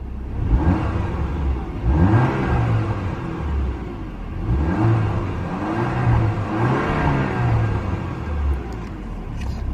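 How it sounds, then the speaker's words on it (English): A warm engine in the least expensive new Porsche is revved several times in a row, each rev rising and falling as a close, loud, somewhat muted rumble over the idle. "let's give this thing a couple revs"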